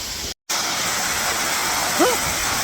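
Outdoor shower water pouring steadily on a cool morning during a bikepacking trip, a constant close hiss with a brief gap near the start and a faint voice toward the end.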